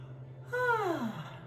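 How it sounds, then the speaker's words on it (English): A big, drawn-out yawn from a person during a morning yoga class, a breathy voiced sigh that slides downward in pitch over about a second, heard close and alone over a steady low hum. "We'll even take our hands to our jaw and do a nice big yawn."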